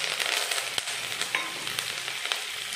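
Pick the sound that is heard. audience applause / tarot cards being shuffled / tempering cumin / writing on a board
tempering cumin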